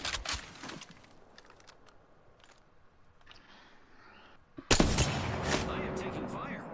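A Devotion energy gun firing in Apex Legends, with a few faint distant shots early on, then a loud close burst of sustained rapid fire near the end.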